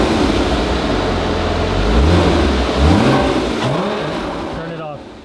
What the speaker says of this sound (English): Rev it again.